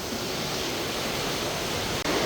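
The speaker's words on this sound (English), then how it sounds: "And we have some very fast flowing water, wouldn't want to get caught in that." Fast, powerful water on the River Eton pours past the remains of an old watermill wheel, a steady close broadband roar that holds unbroken with one brief dip near the end.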